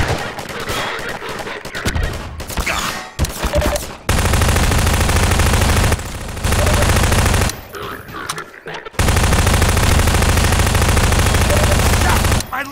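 Enemy gunfire in a Half-Life 2 co-op match rattles loud and continuous in long dense bursts, broken by short gaps, with players talking over it.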